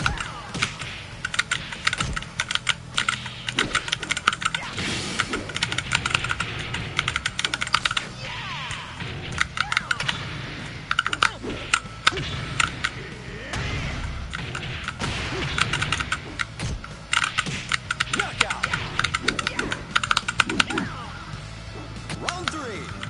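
Rapid clicking of keycaps on a Snack Box Micro all-button controller, a dense, continuous rattle of fast presses at close range throughout, with occasional heavier thumps mixed in.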